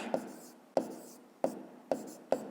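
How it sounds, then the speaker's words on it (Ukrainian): A pen writing down the answer to a fifth-grade math exercise, five short sharp taps or strokes at roughly even intervals with faint scratching between them, close and quiet. "Записуємо тоді відповідь."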